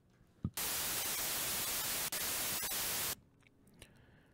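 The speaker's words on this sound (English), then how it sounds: "And the last one is just pure white noise." A burst of harsh, hissing white noise from a synthesizer oscillator (Reason's Thor) switches on abruptly, holds steady for about two and a half seconds with a brief dropout, then cuts off.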